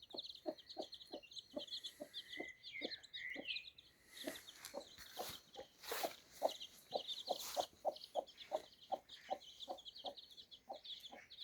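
A hen clucks in a rapid, steady series of short low calls in a barn with her chicks, faint and fairly near, with brief chirps and rustling mixed in.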